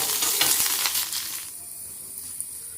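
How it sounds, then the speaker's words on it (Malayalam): Dried red chillies and curry leaves fry in hot oil over browned onion for a sambar tempering, giving a loud, steady sizzle that spits and crackles at first, then settles into a softer, even hiss. "ഉള്ളി ബ്രൗൺ കളറാകുമ്പോൾ അതിലേക്ക് ഉണക്കമുളക് ഇട്ട് കൊടുക്കുക. കറിവേപ്പിലയും ഇട്ട് കൊടുക്കുക."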